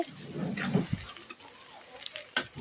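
Garlic frying in oil in a pan gives a soft, steady sizzle with faint crackles and a brief clink near the end, heard close and quiet.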